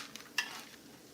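Pork belly sticky rice cake fries in a pan with a soft sizzle and a single sharp crackle, brief and close, with no speech.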